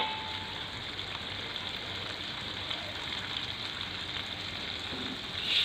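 Mie Aceh spice paste stir-fries in a pan, a soft, steady sizzle that stays fairly quiet and even, with a few faint stirring scrapes.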